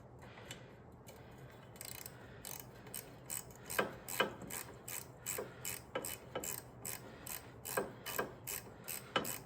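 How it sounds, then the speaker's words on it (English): A ratcheting hand tool clicks in steady repeated bursts during maintenance on a Yarbo yard robot, with sharp ticking strokes growing louder and more regular toward the end, close and alone. "So now we've got to get the tool here, ratcheting tool."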